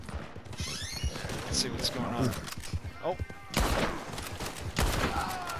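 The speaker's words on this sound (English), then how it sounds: "Oh, there's gunfire up ahead." Bursts of gunfire in the video game Red Dead Redemption 2 crack out amid constant excited talking, with sharp loud shots near the middle and end.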